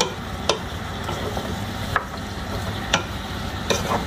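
Food being stirred and mixed in a pan while cooking, a steady low sizzle broken by a few sharp utensil taps spaced about a second apart.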